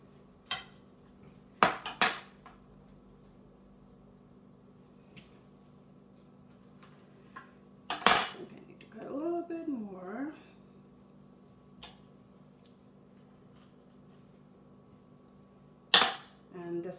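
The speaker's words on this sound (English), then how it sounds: "I'm going to cut from here as well in order to show you what it's going to look like from inside" A knife cutting through a grilled vegetable sandwich on a board, with a few sharp clacks and scraping strokes spaced apart amid quiet, and brief soft speech in between.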